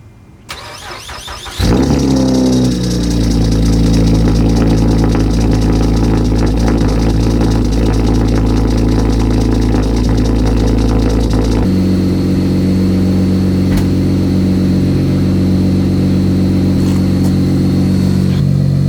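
A car engine cranks and catches after a short quiet moment, then settles into a steady, loud, close idle whose tone shifts slightly partway through, with no one speaking.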